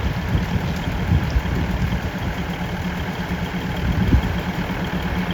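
Steady, close diesel rumble from a twin-engine railcar running on a rainy day, a dense low-pitched drone holding even throughout with slight swells in loudness.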